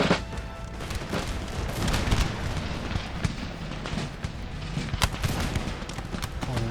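Musket volleys and flanking fire from massed line infantry, including the 15th Regiment of Foot, in Empire Total War on a Prussian campaign, with a dense, continuous crackle of overlapping shots and sharp bangs throughout.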